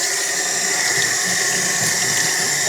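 Hot water runs hard from a tap over a rototiller part, a loud, steady hiss of splashing flow that stays even from start to finish.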